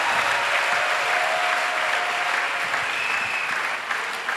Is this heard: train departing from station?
no